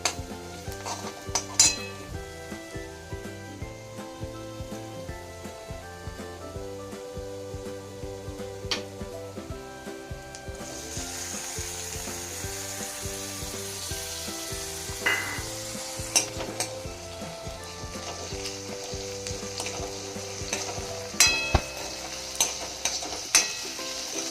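Tomatoes added to browned onions fry steadily in hot oil in a pan while a utensil stirs and scrapes, with occasional clinks of metal against the pot.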